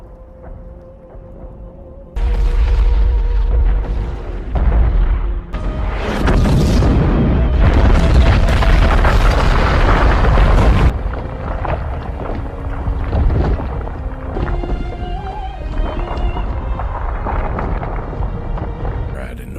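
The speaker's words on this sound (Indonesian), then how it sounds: "We're requesting an airstrike now!" Loud war-film explosions from an airstrike boom in heavy, sustained bursts with a deep rumble, swelling and rolling for most of the clip.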